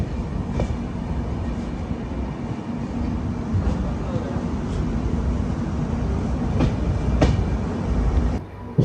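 A train pulls out of Bantwal station near Mangalore, the last stop before Mangalore on a monsoon run from Bangalore. A steady rolling rumble with clicking rail joints runs throughout at close range, and faint voices sit beneath it.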